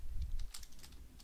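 Quick keystrokes on a computer keyboard as Roblox script code is entered, a short, close burst of light clicks in a fast irregular run.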